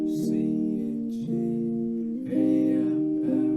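A guitar strumming through a simple minor-to-major pop chord progression, each chord ringing and sustaining for about a second, close and clear with no voice.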